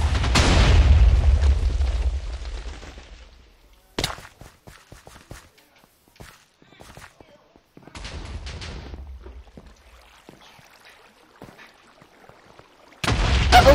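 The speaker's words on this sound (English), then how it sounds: "Uh-oh, chemical grenades!" Chemical grenades in a Minecraft zombie game explode with a loud opening boom that fades, followed by scattered pops and sharp bursts of gunfire, then another heavy blast at the end.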